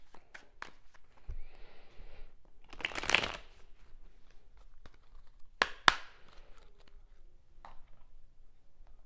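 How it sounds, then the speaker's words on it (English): Tarot cards being shuffled and the deck cut, giving soft riffling bursts and a few sharp close snaps and taps between quiet pauses, with no talking. "let's tap in and get a few more shuffles, and I'm gonna cut the deck"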